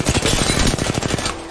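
Rapid automatic gunfire from the video game Apex Legends, a loud, dense burst of close shots fired in quick succession.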